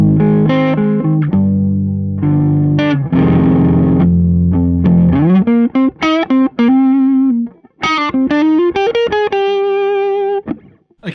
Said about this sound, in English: let's start off with the amp tone. I've used an amp that has no reverb